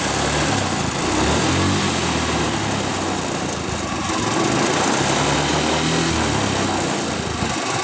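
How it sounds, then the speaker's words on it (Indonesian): A small motorcycle engine revs hard and holds at high speed for the whole stretch, a steady buzzing drone with rising and falling pitch swells, run up during a test of two voltage regulators wired into one electrical circuit. "Kemudian di sini harus kita geber ya, menunjukkan bahwa nanti si kiprok ini nahan apa tidak."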